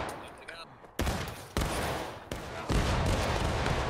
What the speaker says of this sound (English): Independent fire on these guys. Shoot them down.